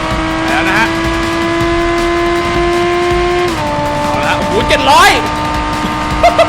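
A McLaren supercar races at extreme speed in BeamNG.drive, its engine holding a loud, steady high whine that drops in pitch partway through, while someone talks excitedly over it.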